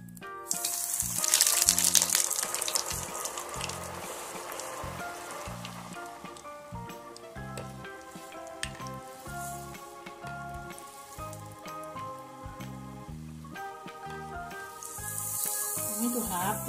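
Breaded cheese balls dropped in batches of four into very hot oil, giving a steady crackling sizzle that flares loudest at the start and again near the end, with light bubbling throughout.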